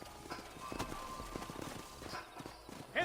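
Several horses' hooves in Red Dead Redemption clip-clopping on hard ground at a walking pace, fairly close, with a brief whinny near the end.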